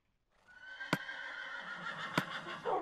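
A horse in a video game gives a single clear whinny lasting a couple of seconds, close and distinct, with two sharp clicks breaking through it.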